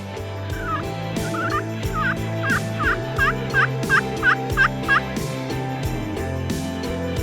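Wild Merriam's turkey gobbling in Wyoming hunting country, a rapid series of about ten sharp warbling gobble notes in quick rhythm, fairly clear over a low rumbling background, with no talk.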